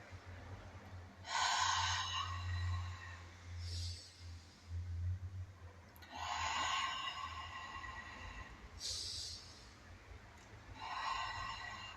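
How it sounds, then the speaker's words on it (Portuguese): Slow, deep breaths in and out during a guided breathing exercise for lung care, several long airy inhales and exhales repeating steadily, soft and close over a low background hum. "Eu vou puxar o ar."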